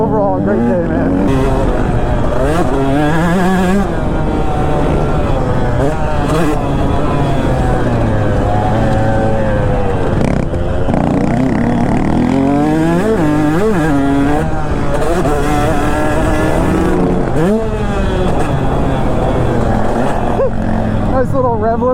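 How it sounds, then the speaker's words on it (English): A two-stroke dirt bike engine revs hard at a motocross track, rising and falling in a loud, buzzing whine that bounces off the rev limiter. Several bursts come close together and sound near and continuous. "Nice little rev limiter."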